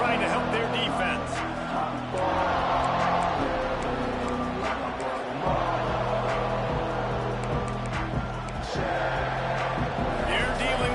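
Dense roar of a large stadium crowd at a college football game against UNC, continuous and loud throughout with a commentator talking over it.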